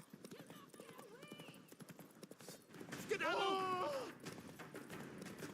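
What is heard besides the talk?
horse Roach galloping in The Witcher 3 video game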